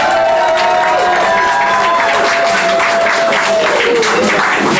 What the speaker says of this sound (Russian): под ваши бурные и продолжительные аплодисменты